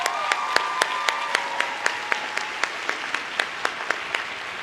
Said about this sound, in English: I would like to give the senior class advisors a round of applause, Ms. Stephanie Smallsty and Ms. Jennifer Gag